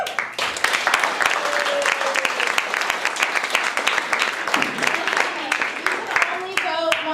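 An improv comedy audience claps and cheers loudly and steadily for several seconds, with whoops and voices rising above the applause.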